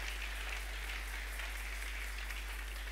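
A church congregation at a Sunday service applauding together, a sustained, even wash of clapping heard from within the hall with a low steady hum beneath it, no voices over it.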